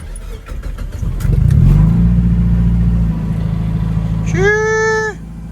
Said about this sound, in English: let's give it a little start. Let's see how it sounds.